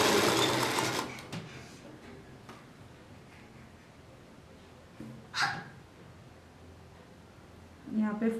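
A sewing machine runs a straight stitch along a folded edge during a sewing class, a brief close burst of mechanical whirring at the start, then quieter intermittent handling noises, with a voice speaking briefly.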